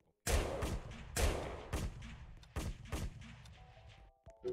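Gunfire in the Roblox game Squid Game: four or five loud, sharp shots spaced about a second apart, each with a short echoing tail, close and with no talk over it.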